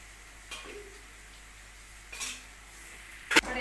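Masala frying in oil in a pan while being stirred: a few spoon clanks and scrapes against the pan over a steady low hiss.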